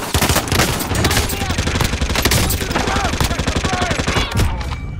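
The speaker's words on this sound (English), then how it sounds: "Receiving hostile fire." Rapid automatic gunfire from a Call of Duty Warzone match on Rebirth Island, loud and continuous bursts of close shots with scattered distant fire, mixed with game sound effects and radio voice lines.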